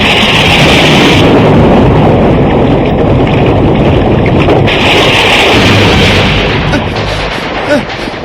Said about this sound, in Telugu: పడవ అలిబిల్లిగా తిరుగుతోంది.